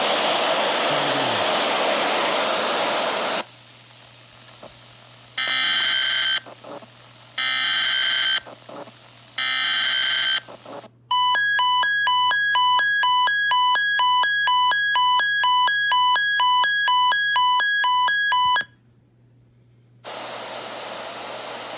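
A weather radio advisory alert: three short buzzing tone bursts followed by a long warbling, pulsing alarm tone, with steady static hiss between them.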